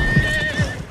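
A horse near a barn, its hooves landing in a couple of heavy, close clops amid a continuous whinny-like tone and a steady background hum.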